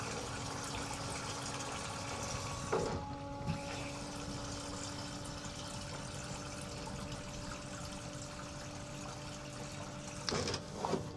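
Macerator pump draining gray water from a tote, a steady broadband watery rush with a constant motor hum running throughout, briefly interrupted by a couple of short clunks.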